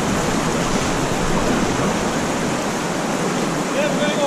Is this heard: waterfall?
yes